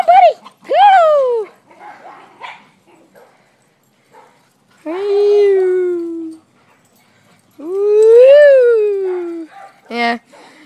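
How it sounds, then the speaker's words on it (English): Several dogs give long, rising and falling whimpering howls, close and loud, with short whines between and a sharp yip near the end. "Yeah, just my dogs."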